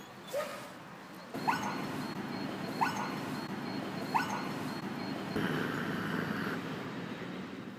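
A dog gives several short yips and barks spaced a second or so apart over a steady indoor background hum, with a longer whining tone near the end.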